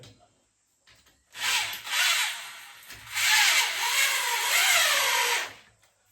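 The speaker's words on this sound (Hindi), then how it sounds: "इसी ड्रिल मशीन से इसको टाइट कर लेंगे इस जगह पे" A drill machine drives in screws to tighten a TV wall mount: two whirring bursts, the second longer and rising in pitch, close and loud with short quiet gaps.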